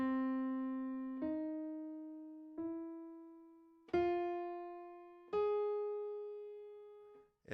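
Single guitar notes of a major-flavored jazz scale climbing one by one, each plucked tone ringing and decaying before the next, about six notes at a slow even pace, quiet and unaccompanied.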